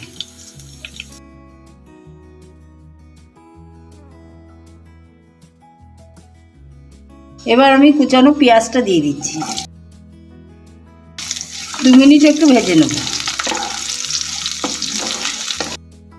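Dried red chilies and nigella seeds crackle and sizzle in hot oil, a loud broadband hiss in bursts near the end, with a voice speaking over it and a quiet hum before.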